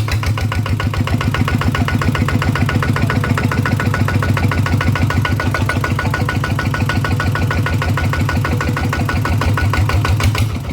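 RT120 diesel engine running steadily with a rapid, even chugging beat, close and loud throughout, with no talk over it.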